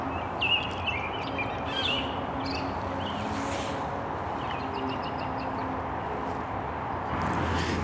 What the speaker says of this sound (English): Hear those birds?